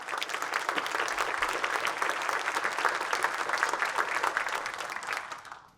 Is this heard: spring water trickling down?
no